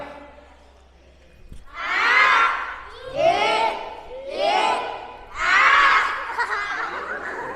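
A group of children in a familiarisation game shouts loudly together in four bursts, each a second or so long, separated by short pauses, with a crowd-like, slightly laughing quality.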